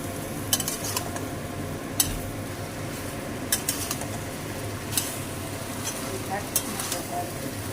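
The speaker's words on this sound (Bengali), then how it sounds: "ধুন্দলটা দিয়ে অনেক সময় নাড়তে হবে" A spatula scrapes and stirs ridge gourd with spices in a pan, soft sizzling underneath and occasional sharp clinks of metal against the pan.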